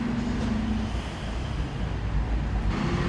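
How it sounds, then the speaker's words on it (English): Dennis bin lorry passing along a street, a loud low engine rumble and road noise that swells and eases with a brief tonal whine, close by and without talk. "Bin lorry, called Dennis apparently."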